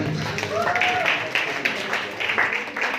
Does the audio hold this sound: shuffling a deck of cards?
no